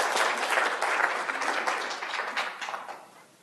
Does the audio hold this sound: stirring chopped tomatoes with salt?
no